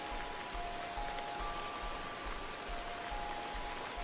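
Steady rain falling as a sound effect in a horror story narration, a continuous even hiss with faint patter, moderately soft and with no voice over it.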